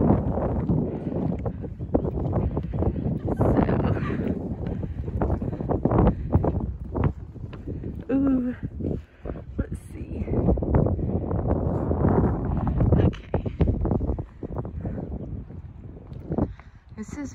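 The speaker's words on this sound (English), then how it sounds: "But it is so windy, and this wind is not helping" Strong wind gusts across the Geierlay suspension bridge, a continuous rough buffeting roar that batters the microphone for the whole stretch while a person talks over it.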